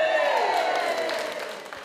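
Applause and cheering from a watch party of a local Parkinson's support group, a dense wash of clapping and crowd noise that fades slightly toward the end.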